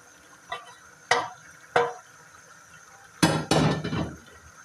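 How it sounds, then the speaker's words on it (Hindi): Spoon scraping spiced masala off the inner sides of a pressure cooker while cooking palak gosht with bone-in beef, heard as several separate sharp metallic scrapes and clanks, a few spaced strokes then two louder ones close together. "सारा अच्छा सा मसाला इसके साइडों से साफ कर लेंगे कुकर के अंदर से।"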